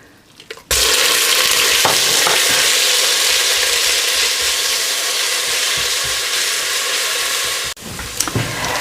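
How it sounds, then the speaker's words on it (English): Onions fry in hot oil for samosa chaat, a steady dense sizzle that starts abruptly, holds loud and close for several seconds, then cuts off briefly near the end before resuming in bursts. "we're going to add our onions in, and we're going to fry these for about 3 to 4 minutes until they're nice and golden brown in colour"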